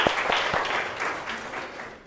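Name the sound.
applause for a student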